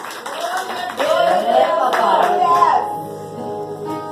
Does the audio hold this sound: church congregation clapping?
yes